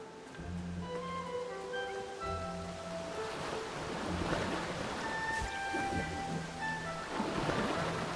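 A waterfall in the video game Kena gives a constant rushing wash of falling water that swells a little midway, layered under soft game music tones.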